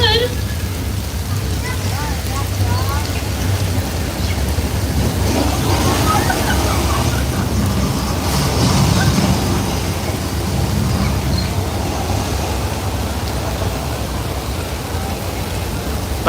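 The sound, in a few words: artificial rain from sprinkler system on Universal Studios set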